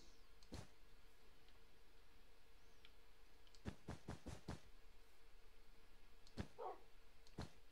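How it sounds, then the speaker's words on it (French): Dogs barking in a video game, scattered sharp barks including a quick burst of four, with a brief yip and small squeaks over a quiet, steady background hum. "Elle laisse toujours traîner ses toutous de partout."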